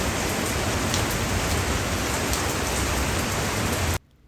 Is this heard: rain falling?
yes